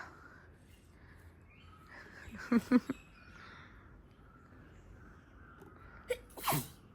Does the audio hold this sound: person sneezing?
yes